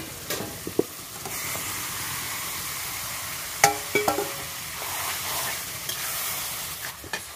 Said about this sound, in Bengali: কড়াইতে মাংস দিয়ে দেব।